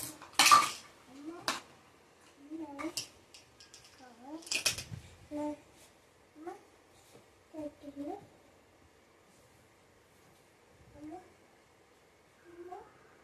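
Utensils clatter and scrape against a pot as chopped tomato goes in for chicken biryani, with several separate clinks and knocks spread across the stretch and sharp clanks near the start.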